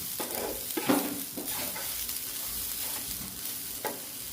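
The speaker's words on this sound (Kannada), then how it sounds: "ಇವಾಗ ಕಾಯಿ ತುರಿ ಕೂಡ ಚೆನ್ನಾಗಿ ಫ್ರೈ ಆಯಿತು." Grated coconut with turmeric frying in a pan, a steady soft sizzle broken by several scraping stirs of a spoon, close and moderately quiet, with no voices.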